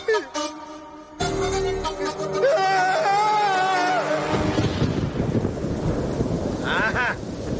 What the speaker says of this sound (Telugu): మంచి వర్షం పడుతుంది.